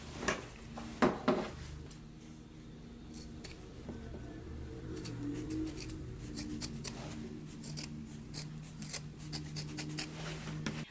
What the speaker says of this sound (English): we can go ahead and trim our corners as well as the neck edge now